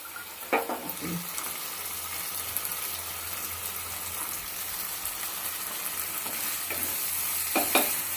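A spatula stirs a masala with shelled peas and small potatoes in a pan, scraping now and then over a constant sizzle. The frying is close and steady, with no voices.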